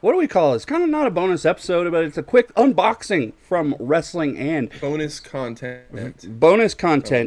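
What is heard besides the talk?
No everyday noise stands out behind the speech.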